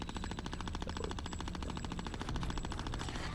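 Rapid, evenly spaced bursts of automatic gunfire from the video game Conker: Live & Reloaded, a steady mechanical rattle that runs unbroken and loud for the whole stretch.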